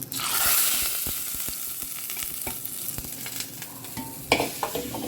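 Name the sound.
tempering spices sizzling in oil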